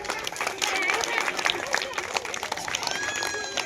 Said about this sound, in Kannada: ಚಪ್ಪಾಳೆ ಹಾಕಬೇಕು.